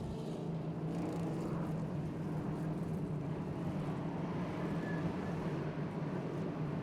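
Race cars rumble outside at the TCR Asia round in Bangsaen, Thailand, a low, steady, muffled engine drone heard from a distance through walls, constant with no break.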